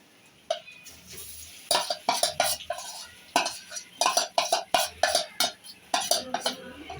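A utensil stirs thick batter for dhoka in a pan, with a run of sharp scraping clinks and knocks coming in quick clustered bursts separated by short pauses, close and fairly loud, with no talk.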